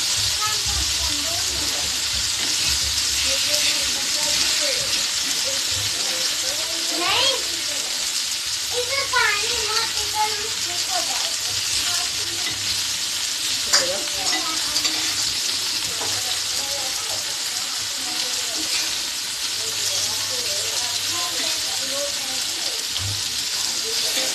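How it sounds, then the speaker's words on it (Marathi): Prawns frying in a pan with a constant loud sizzle and crackle, punctuated by stirring and flipping clatter, while voices talk faintly in the background. "बघा आता कोळंबी व्यवस्थित फ्राय झालेली आहे एका बाजूने. आता मी पलटी करून घेते."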